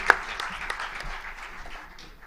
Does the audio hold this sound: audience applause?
yes